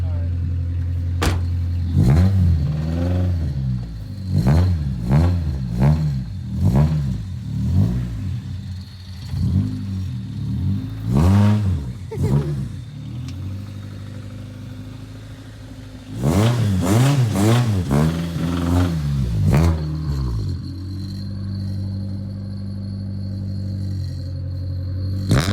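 A 1995 Honda Civic DX with a manual gearbox warms up at idle with repeated revs that rise and fall in bursts, the engine loud and close, while people talk over it.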